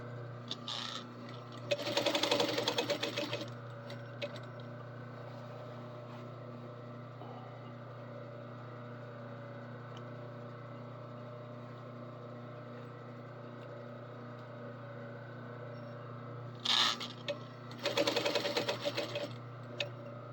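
Sewing machine stitching fabric during a military-style repair: a steady low motor hum throughout with two loud bursts of rapid needle stitching, one early and one near the end.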